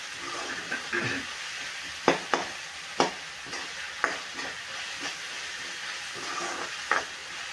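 Tomato cooks down in a pan for dhaba-style whole masoor dal, a steady close sizzle and hiss broken by several sharp spoon scrapes and stirring knocks, no talk.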